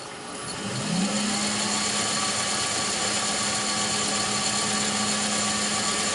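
A motor spinning a rotary encoder at 1000 RPM gives a steady, loud mechanical whir with a constant low hum, rising in the first second and then holding evenly.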